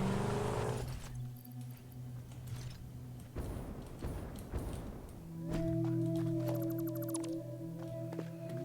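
A vehicle in the game Satisfactory rolls along, with a low engine hum, mechanical clanks and thumps, and shifting tonal machine whines from a factory setting.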